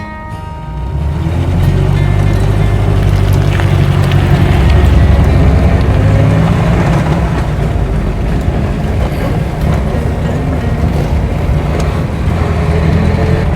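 A 1946 Austin 10 classic car pulling away, its engine rising from idle into a steady, loud low drone with mechanical rumble and road noise, continuous and close throughout.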